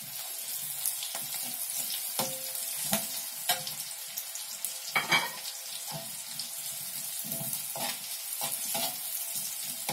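Chili and garlic sizzle in a pan while cooking stir-fried bean sprouts with tofu. A steady close frying hiss is broken by a few sharp scrapes and clacks from the stirring utensil.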